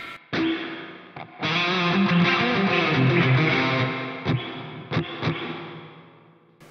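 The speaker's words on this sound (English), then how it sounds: "let's just have a listen to how reverb-y the reverb gets" Electric guitar played through a Boss Katana amp head with spring reverb, sustained chords and notes ringing out with a drippy, washing tail, with a few sharp plucked accents near the end.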